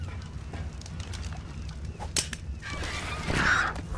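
A bird creature in the ARK Lost Island video game gives a honking, goose-like call near the end, over a low rumbling game soundscape with faint thuds.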